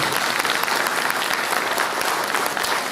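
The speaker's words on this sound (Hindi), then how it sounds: "चाहेंगे जोरदार तालियां" A hall audience claps loudly for the director of the play Dusman, a thick, even wash of many hands with a faint crowd murmur beneath, steady from start to finish.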